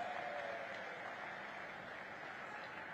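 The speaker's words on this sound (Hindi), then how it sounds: "प्रधानमंत्री नरेंद्र मोदी जी का एक बार जोरदार तालियों के साथ स्वागत और अभिनंदन करें" Steady, dense applause from a large crowd at a political rally in Banswara welcoming Narendra Modi, sustained at an even level throughout without pauses.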